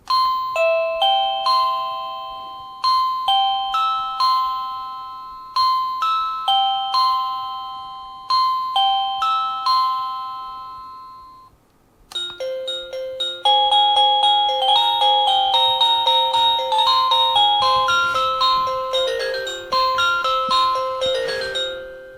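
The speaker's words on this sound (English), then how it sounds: "some of them are just chimes or gongs, others are actually kind of musical" An Aibont R195-BB wireless doorbell with 38 tunes plays bright repeating ding-dong chimes in a rhythmic series, then switches to a busier, louder musical melody, loud and close with no voices.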